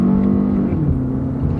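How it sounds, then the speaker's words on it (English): An SUV engine accelerates smoothly in eco mode, a close steady hum that rises slightly in pitch and then settles as the transmission shifts. "Transmission shift smooth, the engine smooth."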